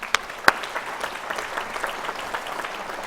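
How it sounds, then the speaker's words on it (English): Audience applauding at a college convocation ceremony, a steady wash of many hands clapping across the hall for about three seconds, with a couple of sharper claps standing out near the start. "Round of applause for Colonel Keever."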